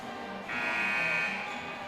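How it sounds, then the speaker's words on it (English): A basketball game buzzer at a high school varsity gym sounds once, a steady electronic tone lasting under a second over low arena ambience. "As you can hear the buzzer sounding in the background"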